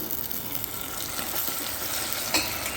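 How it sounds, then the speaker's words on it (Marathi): Chopped tomatoes sizzle steadily in a hot pan while being stirred for a spicy moth bean usal, a continuous close frying hiss with a brief sharper scrape near the end and no talking. "टमाटे टाकते."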